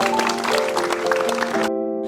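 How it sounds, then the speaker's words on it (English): An outdoor audience claps for itself at a public speaking training session: dense, steady clapping over a held musical tone, stopping abruptly near the end while the tone rings on. "clap for yourself"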